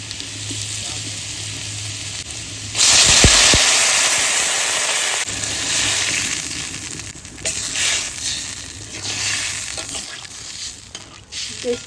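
Water poured into frying elephant foot yam sets off a sudden loud sizzling burst that settles into steady bubbling and sizzling, with clattering stirring and someone talking intermittently.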